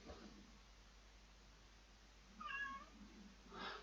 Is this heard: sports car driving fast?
no